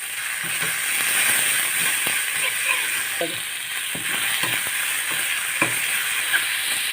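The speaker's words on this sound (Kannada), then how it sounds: "ಟೊಮೆಟೊ ಸ್ವಲ್ಪ ಚಂದ ಫ್ರೈ ಆಗಲಿ." Tomatoes with ginger garlic paste fry in a pan, giving a steady close sizzle with intermittent scraping and clinks of a ladle stirring, with no talking.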